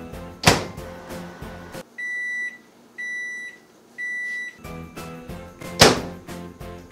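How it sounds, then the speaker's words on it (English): A microwave oven softening fondant gives three evenly spaced electronic beeps between clunks of its door and handling thuds, heard close up. "So I'm gonna pop this into the microwave,"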